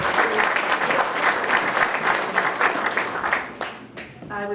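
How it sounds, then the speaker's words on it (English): A crowd at a Veterans Day event gives a high school team sustained, full applause that fades toward the end, with a voice briefly audible as it dies down. "How about a nice round of applause for our high school team?"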